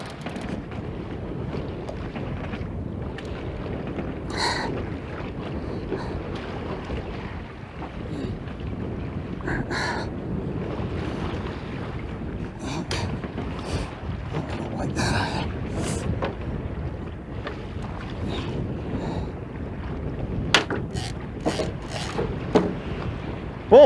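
Wind buffets a small fishing boat on choppy water, a steady rushing roar with microphone gusts and occasional sharp knocks, heard by one person alone aboard while playing a large wild Chinook salmon.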